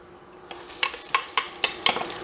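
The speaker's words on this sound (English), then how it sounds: "I think I need a little more olive oil to fry our onions up" Chopped onions fry in olive oil for New England clam chowder, a steady close sizzle punctuated by a regular series of sharp scraping clicks from stirring in the pan.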